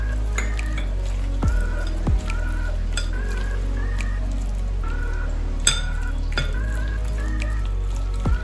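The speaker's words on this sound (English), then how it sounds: "Corn flour. And you mix it well." Batter being mixed with corn flour in a bowl in a home kitchen, heard as soft, steady scraping and stirring with a few sharper utensil taps against the bowl, fairly close and continuous.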